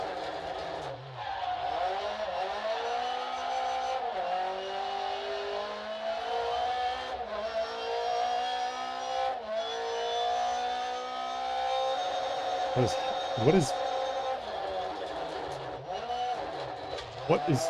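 A race car engine in a racing video game at the Trois-Rivières circuit drones and revs continuously, with tire squeals and pitch shifts through gear changes, while people talk over it.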